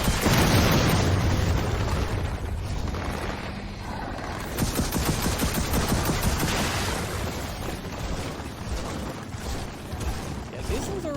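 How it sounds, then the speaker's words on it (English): Airstrike blasts rumble through a Gears of War 4 battle, a loud opening boom rolling into a dense, continuous wash of explosions and crackling fire that sustains throughout. "I'm requesting an airstrike. Airstrike incoming."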